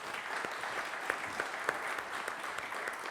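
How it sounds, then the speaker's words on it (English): An audience applauds named guests at a political interview event, a steady wash of clapping at moderate volume with a few sharper individual claps standing out. "Give them a round of applause."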